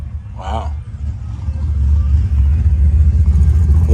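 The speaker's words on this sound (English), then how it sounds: "That little CUDA. Sounded good." A classic Plymouth Barracuda with a 4-speed, its engine building to a deep, rumbling rev that grows louder and holds steady, close by; a brief voice sounds near the start.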